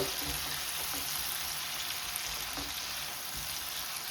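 Salted tomatoes frying in a pan for a quail egg and potato fry, a continuous close crackling sizzle with occasional stirring, alone without talk.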